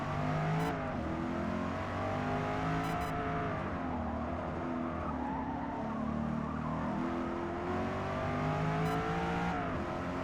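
Corvette E-Ray C8 engine in Forza Motorsport 8 at the Nurburgring GP, loud and sustained as it accelerates hard down a straight at high speed, pitch climbing steadily with a brief gear-change dip, no talk over it.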